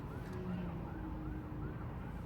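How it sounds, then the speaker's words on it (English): An ambulance siren wails in repeating rising and falling sweeps as it pushes through stopped motorway traffic on the M1. It sounds faint and distant over the low rumble of idling traffic. "I've got an ambulance"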